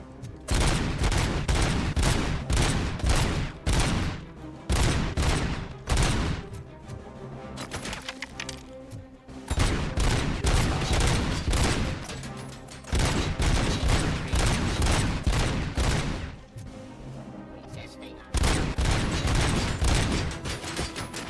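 Rapid sniper and automatic gunfire from the RoboCop: Rogue City video game, loud dense volleys of shots repeating almost continuously with a few brief pauses.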